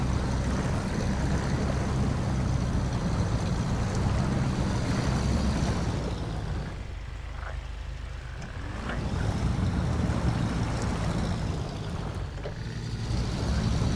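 A Fleet Star truck in SnowRunner churns through swamp water, a steady rumbling engine and washing slosh that dips briefly quieter in the middle before building again.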